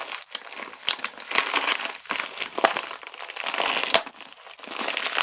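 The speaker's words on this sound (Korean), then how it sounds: "뜯어볼게요." Plastic packaging around PC parts, a CPU and an SSD converter, crinkles and tears as it is opened up close, in irregular crackling bursts with short pauses.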